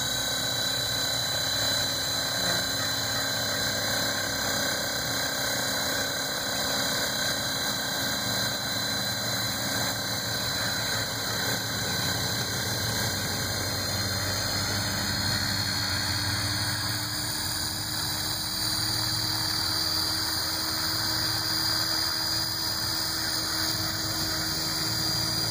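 A DFC 450 VX1N quadcopter drone hovers steadily on its first flight, its motors and propellers giving a continuous, even droning whine with bright high tones, close and loud throughout, with no talk.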